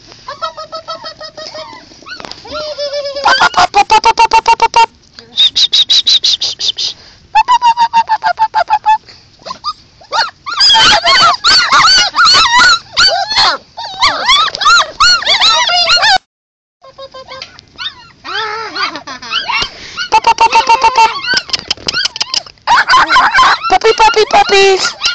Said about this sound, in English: Puppies! Boy, they're vocal.